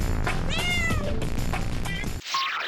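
Cat meows in the You Don't Know Jack quiz game, several drawn-out mewing calls in quick succession, loud and close, ending with a short chime.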